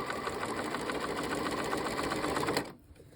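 At the longest stitch length of 5, a sewing machine runs steadily and close while stitching a zippered cushion back, then stops abruptly near the end.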